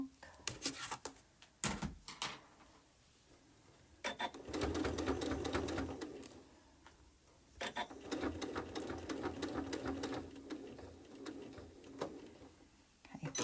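A sewing machine runs in steady bursts while stitching binding onto a quilt, its rapid needle chatter starting and stopping between quieter pauses, with a voice speaking in the gaps.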